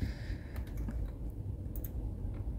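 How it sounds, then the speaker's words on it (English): Keys on a computer keyboard clatter in irregular bursts of quick, light clicks over a low background hum, close by and with no voice. "Sorry if you can hear my keyboard typing."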